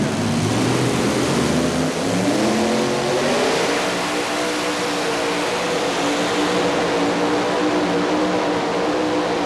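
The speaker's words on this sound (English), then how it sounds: "Listen to those Chevrolet engines all working in time" Several Chevrolet engines in a pulling tractor roar together at a 1989 indoor truck and tractor pull, a loud steady mechanical drone with layered harmonics that holds throughout.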